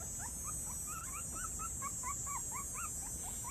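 Puppies whimpering on the floor outside: a steady run of thin, high-pitched squeaks and whines repeating in quick, uneven succession, close by and fairly soft, with no talking.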